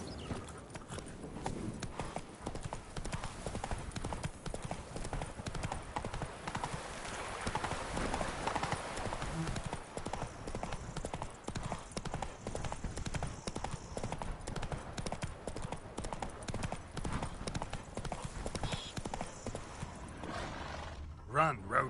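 Roach, a horse in a video game, gallops with fast, rhythmic hoofbeats that run steadily throughout, along with occasional voices.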